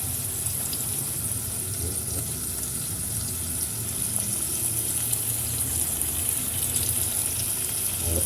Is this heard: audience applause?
no